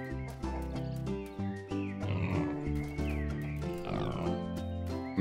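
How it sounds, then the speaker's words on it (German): Cartoonish pig in the farming game No Place Like Home gives a run of several oinks and squeals over about five seconds, close and fairly loud with no voices over it. "Beim Schweinchen."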